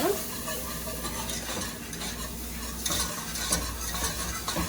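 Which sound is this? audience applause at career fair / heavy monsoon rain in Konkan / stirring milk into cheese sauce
stirring milk into cheese sauce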